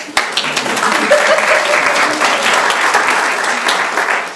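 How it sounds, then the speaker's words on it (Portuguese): Audience applause at a congress panel on bullying, a dense, steady burst of clapping that starts abruptly and fades slightly toward the end. "Palmas para nós."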